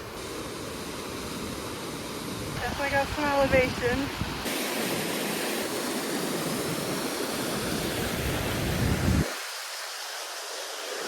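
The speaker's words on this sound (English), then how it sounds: "we were coming up to see this waterfall, but it's crazy because there's also one right there" Rushing water from a mountain waterfall in Switzerland, a broad steady roar close by, with a voice speaking briefly over it and the rush easing somewhat toward the end.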